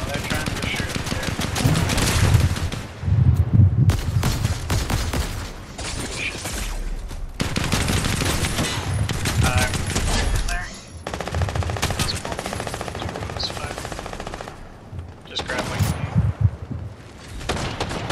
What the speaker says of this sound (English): Ooh, they shooting.